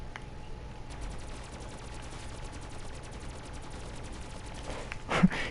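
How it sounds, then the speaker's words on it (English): Rapid automatic gunfire from Black Ops 3 zombies mode rattles in a steady stream of quick shots at moderate level, with a brief louder burst near the end. "I fired exact 10 rounds"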